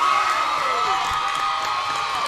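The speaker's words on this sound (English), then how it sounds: "we'll let the Niagara Wheatfield crowd count it down to the horn" Spectators at a high school hockey game at Niagara Wheatfield shout and cheer loudly and steadily, counting down to the horn. The whooping and yelling come from a crowd filling a rink.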